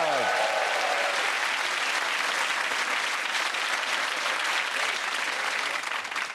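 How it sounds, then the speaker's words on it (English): A studio audience on a comedy panel show claps and cheers in a dense, sustained burst that starts at full strength and holds steady before tapering slightly at the end. "And that round of applause goes to Tessa."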